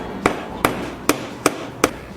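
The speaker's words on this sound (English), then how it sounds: "I need to hammer this nail through this board to attach it to this one." Five evenly spaced, solid blows of a hammer drive a nail through a wooden board, each a crisp close knock about half a second apart, with no talking.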